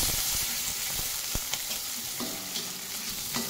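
Garlic, onion and chili being sautéed in a pan for adobong pugita: a loud, continuous sizzle close up, with occasional knocks and scrapes of a spatula against the pan and no talking.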